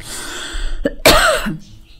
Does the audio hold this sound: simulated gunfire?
no